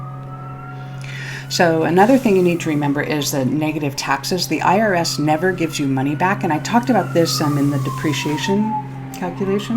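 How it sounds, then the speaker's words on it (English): A siren wails in the background throughout, a steady rising and falling tone running beneath a man's continuous speech. "Sorry about that siren."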